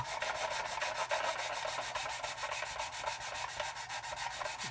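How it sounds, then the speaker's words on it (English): Steady rapid back-and-forth sanding strokes on a painted plastic model part, a fine rhythmic scratchy rasp, close and continuous with no talking. "just sand away there now"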